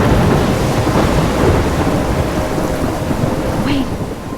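In the video game Life is Strange, a loud thunderstorm rumbles over constant heavy rain and wind, a dense, continuous roar. There is no clear talk.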